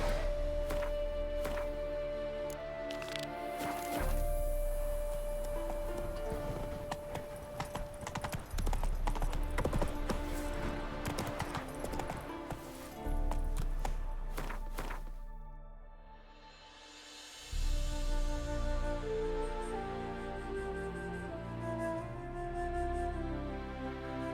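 Roach, the horse in The Witcher 3, clip-clops along in rapid rhythmic hoofbeats that pause briefly near the end and then resume, set against a game soundtrack and ambient backdrop, with no talk.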